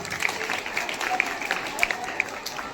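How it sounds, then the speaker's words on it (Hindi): Clapping from an assembled crowd greeting guests at a school farewell ceremony in Begusarai, a brief burst of scattered hand claps with a voice speaking over it. "तालियों से स्वागत हो।"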